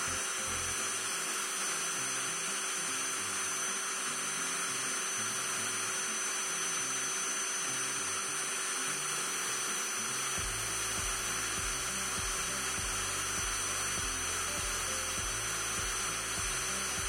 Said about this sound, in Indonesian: sekarang kita akan tes RPM dari bor ini seperti apa dan berapa RPM yang akan dihasilkan dari putaran bor ini